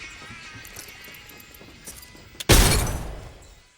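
A frag grenade goes off in the Apex Legends video game: one sudden, loud, close blast that decays over about a second, following a stretch of quieter gameplay ambience and scattered small effects.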